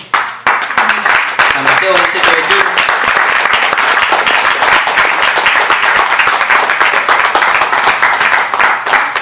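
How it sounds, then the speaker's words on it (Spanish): A church congregation clapping loudly and continuously for about nine seconds, a dense close wall of hand claps with a speaker's voice briefly heard at the start. "Dele fuerte palmas al Rey"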